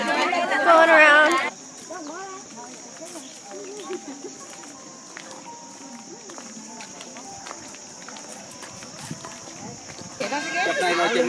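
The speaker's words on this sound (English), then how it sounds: "Horses!" Horses walking along a path in a newly opened park, hooves clip-clopping at a moderate distance over a steady outdoor background, with voices rising briefly at the start and end.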